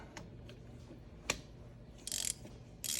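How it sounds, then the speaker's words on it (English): A ratchet with a 17 mm socket loosens the drain plug on a Branson 2515H compact tractor's front axle, giving a few soft clicks and then two short bursts of rapid ratcheting, close and quiet. "17 millimeter on a socket, that's all it takes. So let's go ahead and crack that loose."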